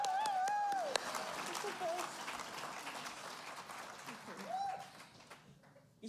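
Awards concert audience applauding, a steady broad clapping wash that fades over several seconds, with a presenter's voice talking over it.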